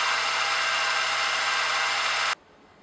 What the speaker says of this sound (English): not to break up the fun of all of this drilling